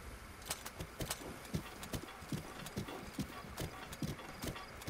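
Horse hooves in The Legend of Zelda: Breath of the Wild clip-clop in a steady, even trot, close and clear over a soft game ambience, with no talking.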